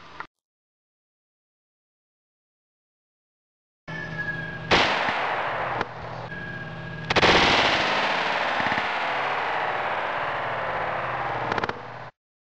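A Smith & Wesson 686-3 revolver fires .357 Magnum Hornady LEVERevolution 140 grain FTX rounds outdoors, with loud close sharp reports followed by lingering rumble and echo after a short silence.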